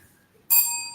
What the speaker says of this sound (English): remember to ring the bell